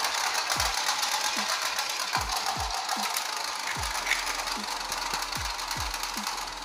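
Homemade spring beyblade spinning on a surface, a steady dense whirring rattle with repeated low knocks as it bounces and wobbles, near and constant, with no voices.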